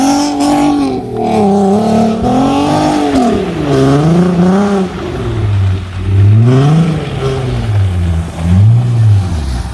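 A 2010 Audi TT RS 8J in Need for Speed, its turbocharged 2.5-liter inline-5 revving loudly and continuously, pitch rising and falling through repeated throttle blips and gear changes, close and alone.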